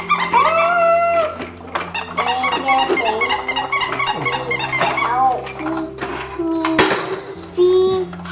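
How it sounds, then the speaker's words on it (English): A squeaky toy fire engine squeezed repeatedly, sharp high squeaks in quick bursts close by, with a child and an adult talking over them and a few plastic clatters. "Oh, we've got a squeaky toy in the..."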